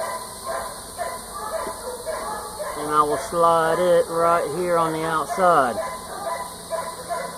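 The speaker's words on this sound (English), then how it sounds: "You can probably hear my dogs in the background." Several dogs barking, yipping and whimpering in the background at a beekeeping hive box, in short irregular bursts while a person talks nearby.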